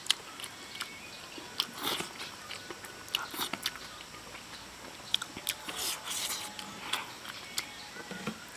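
Close, crisp chewing and biting of beef stew mixed with rice, with repeated wet crunches and mouth sounds in an irregular rhythm, quiet and intimate with no talk over it.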